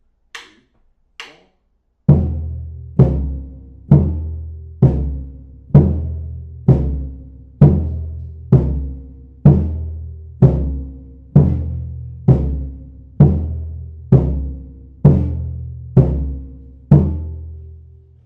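Two surdo drums play a samba reggae march together, a couple of light clicks leading into a steady stream of deep, booming strokes alternating open and muted, close and loud with no voices.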